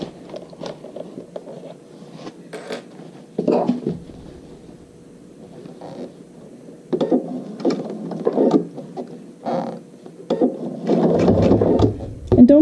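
A sewing machine stitches the lining of a toiletry bag in short, uneven bursts with pauses between runs, close and moderately loud, with light handling clatter and rustle in the gaps.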